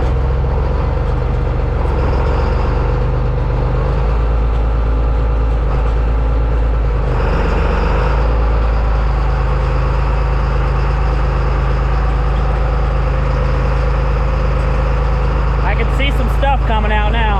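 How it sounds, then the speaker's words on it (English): A John Deere 8300 tractor runs with its PTO engaged to drive a spreader. A loud, close, steady low engine drone continues for the whole stretch, with a brief rattling change near the end. "Now I've never used the PTO, so let's see what happens. Kicked on."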